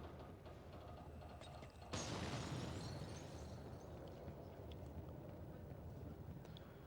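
A sudden heavy explosion in the video game F.E.A.R. Extraction Point bursts out and leaves a long rumbling roar beneath steady background noise.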